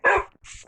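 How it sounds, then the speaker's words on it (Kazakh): A dog in a video game gives a sharp bark followed by a quieter second yelp, close and clear with no talk. "Міне, иттерім ішінде."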